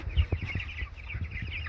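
Young meat chicks in a chicken tractor on grass, a near flock of repeated short peeps and clucks overlapping in quick bursts, fairly loud with no talking.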